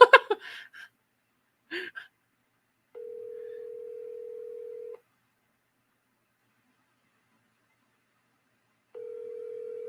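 A telephone call tone sounds as a steady, plain two-second beep, then goes silent for a long gap before beeping again. A short breath and a gasp come just before the first tone.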